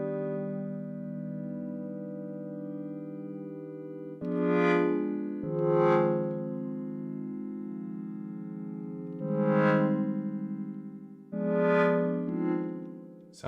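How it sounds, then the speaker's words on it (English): Sustained synthesizer pad with rich stacked harmonics, heavily filtered, with several swelling chord stabs layered over a steady drone, shaped by effects like delay and reverb; no voices. "I wanted to make like a pad type sound"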